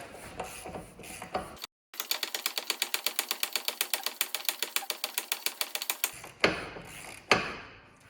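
Ratchet wrench spinning on an axle nut of a 2010 Dodge Grand Caravan during CV shaft replacement, a fast, even run of close clicks for about four seconds, framed by clanks of the tool.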